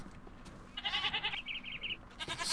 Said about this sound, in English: Stupid goats.